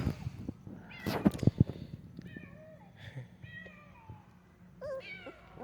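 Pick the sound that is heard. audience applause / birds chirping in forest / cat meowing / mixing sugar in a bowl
cat meowing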